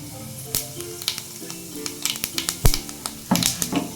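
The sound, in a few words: fennel seeds sizzling in hot oil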